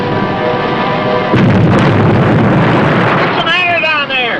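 Gunfire and blasts roar during a World War II submarine attack on the USS Gato, a heavy sustained rumble that erupts suddenly over a musical score, with voices shouting toward the end.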